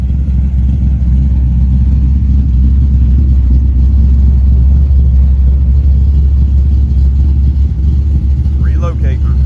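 A Mazda RX-7 on the road gives a steady, loud low engine and road rumble that runs without a break from start to end, heard from inside the car.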